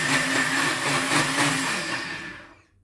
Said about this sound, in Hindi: मैं इसे बिना पानी के आपको पीस के बताऊंगी